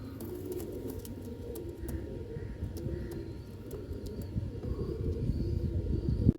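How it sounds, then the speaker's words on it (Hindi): A Kasuri Jaaldar pigeon coos in low, rolling, repeated calls close by, with faint chirps and a rumble of background noise that grows louder toward the end. "एक कसूरी जालदार कबूतर है।"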